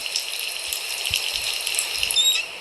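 Water runs steadily from a tap while a baby doll is washed, a continuous close gush with faint knocks underneath and no talking.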